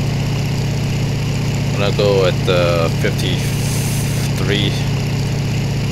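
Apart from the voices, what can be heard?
aircraft engine throttled down, video game IL-2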